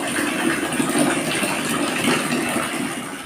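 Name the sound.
water running while washing clothes covers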